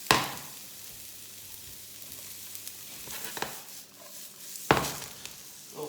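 Onions sizzle in a hot pan with a steady, fairly quiet hiss, broken by a couple of sharper clacks of stirring or utensil contact.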